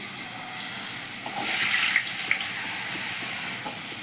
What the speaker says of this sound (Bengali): এবার আমি এই তেলের মধ্যে কিছু ডুমো আলু করে রেখেছি, সেটা ভেজে নিচ্ছি